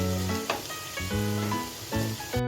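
Zucchini and potato pieces sizzle steadily in a pan, a continuous close frying hiss with occasional stirring scrapes and no voices.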